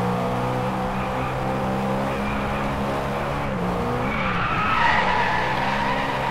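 Cars drifting through a turn in the racing game Driveclub, with a continuous high tire squeal and skid over steady engine drone, pitch sliding as the slide changes near the end.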